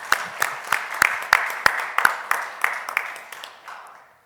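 Church congregation at a Sunday service claps in a slow, regular rhythm, around a dozen distinct beats fading gradually at the end, with a faint voice briefly underneath.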